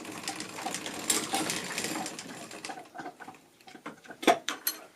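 A hand-cranked circular sock knitting machine turned through one round with a ripcord, giving a close mechanical whir of rapid needle clicks that thins into a few scattered metallic ticks and clacks.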